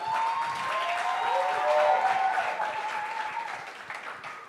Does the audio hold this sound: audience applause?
yes